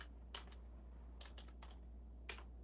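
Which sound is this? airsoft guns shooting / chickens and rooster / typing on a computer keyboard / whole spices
typing on a computer keyboard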